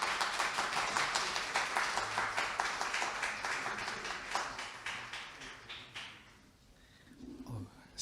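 Audience applause at a Korean NPO/NGO leadership conference as a professor takes the stage, dense clapping for about six seconds that fades out, then a brief voice.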